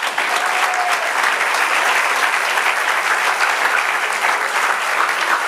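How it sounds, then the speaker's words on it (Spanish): A church congregation gives sustained, dense applause that stays loud and even throughout, with no one speaking over it. "Dale aplauso al Señor."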